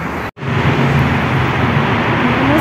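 Cars cross a bridge in Coyoacán: a loud, continuous roar of nearby traffic with a very brief cut near the start, and no voices.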